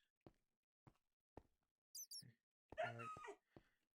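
A tamed dog in the video game Minecraft makes a short whining, yipping sound between sparse, soft clicks of game noise, with a brief voice passage partway through.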